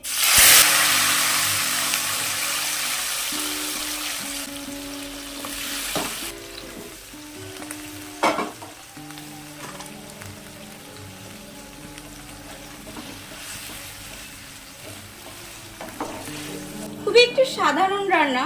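Drumstick stems go into a pan of hot mustard oil and fried cumin with a loud hissing sizzle that gradually calms, followed by scraping and clinking stirring and someone speaking.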